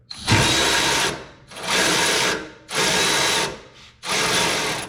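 A power tool spinning off a suspension bolt on a fifth-generation Toyota 4Runner during a leveling kit install, four loud, close whirring bursts of about a second each, separated by short gaps.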